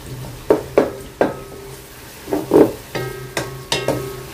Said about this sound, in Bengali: তো পেঁয়াজটা একটু ভালো করেই ভাজবো, হালকা ব্রাউন করে ভাজবো।